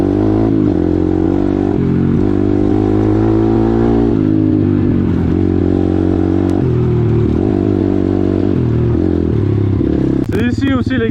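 An Apollo RXF 150 enduro dirt bike with big 14/17-inch wheels climbs in second gear on a hard enduro trail, its engine droning loud and close, with pitch rising and falling and some clatter near the end.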